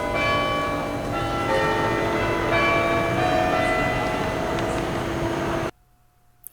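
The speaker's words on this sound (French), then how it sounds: "C'est le carillon de l'église Saint-Louis des Invalides." Carillon bells of the church of Saint-Louis des Invalides in Paris ring out, heard from an inner courtyard behind the church, with layered sustained bell tones that stop abruptly and leave near silence.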